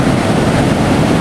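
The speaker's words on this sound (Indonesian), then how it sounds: "ditambah anginnya itu sepoi-sepoi bercampur dengan ombak tuh" Steady ocean surf and breeze roll continuously at Parangtritis beach, a broad, close wash of waves and wind rumble with no clear breaks.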